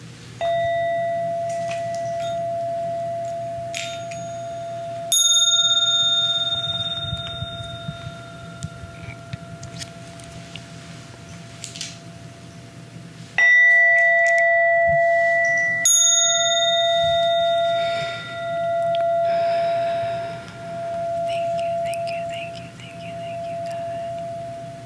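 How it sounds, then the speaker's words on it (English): A bell is struck, rings out with a clear sustained tone and slowly fades, then is struck again several times, each ring decaying gradually in a quiet room. "Let's ring the bell now."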